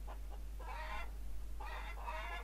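Chickens in the Farmers Dynasty video game cluck in short bursts, about four separate calls over a steady low hum, heard close and clear with no speech.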